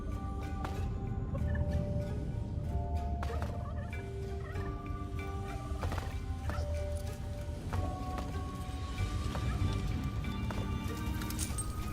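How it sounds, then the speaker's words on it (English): Busy game-world ambience from Dungeons 4 with steady clucking and gobbling from chickens among rattling and clip-clop noises, constant and moderately loud for the whole stretch. "Chickens."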